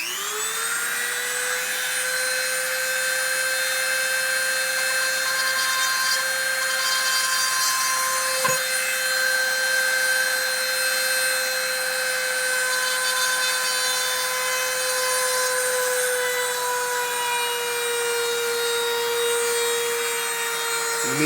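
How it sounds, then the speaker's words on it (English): Small rotary tool with a diamond tip bit drilling a pilot hole in a Glock trigger, giving a steady high-pitched whine that holds a constant tone, loud and close for about twenty seconds, with no talking. "this is where you need your diamond tip bit. I'm going to make myself a little pilot hole."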